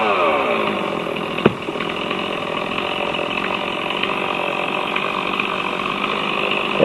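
Chainsaw running steadily throughout while cutting down a tree branch during tree removal and pruning, loud and close with a sharp knock near the start and a brief surge at the end.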